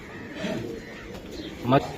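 Pigeons of a high-performing breeding line coo nearby, with one clearer burst of cooing near the end over a low, busy background.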